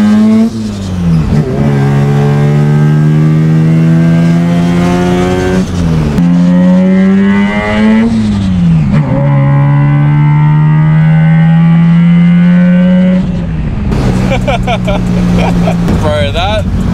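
A Mazda 1300 street cruiser with a 13B bridgeport rotary engine revs hard and close, its buzzing note climbing in repeated rising sweeps, dropping between pulls, then screaming again.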